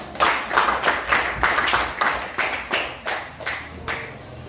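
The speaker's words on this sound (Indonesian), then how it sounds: "tepuk tangan buat Adriani." Small classroom group clapping for a student after a persuasive speech, about eight distinct, fairly slow claps that thin out and fade over a few seconds, with no voices over them.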